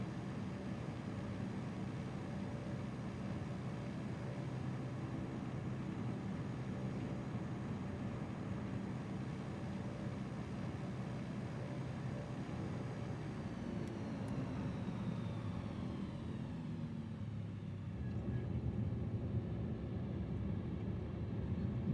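A Shock Ultra Cub bush plane's engine drones steadily at full power in Microsoft Flight Simulator, a constant loud hum with a slight shift in pitch near the end.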